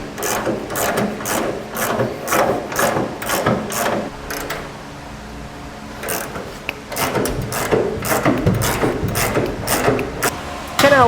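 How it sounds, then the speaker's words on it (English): Frame bracket bolts being tightened onto a 2017 GMC Sierra 2500 truck frame during an underbed hitch kit install, with rapid mechanical ratcheting in close bursts, a short pause midway, then more ratcheting. "Now we'll tighten up our frame bracket to our frame."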